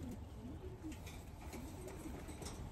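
A racing pigeon in a loft gives soft, low cooing calls that repeat a few times. The calls are faint against a steady, noisy background.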